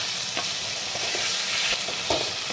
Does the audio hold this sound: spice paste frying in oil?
yes